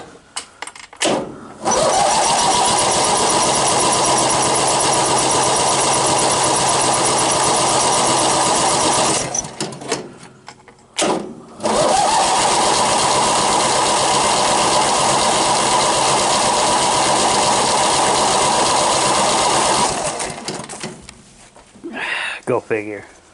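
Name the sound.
carbureted engine starting and running after sitting days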